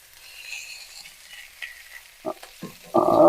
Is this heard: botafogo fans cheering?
no